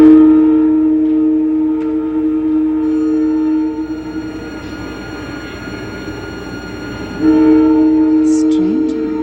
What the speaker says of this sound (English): Strange. Train?